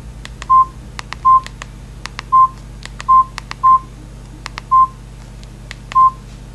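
Keypad tones from a Samsung E1200 mobile phone, seven short evenly spaced beeps pressed one after another, loud and close with no voices.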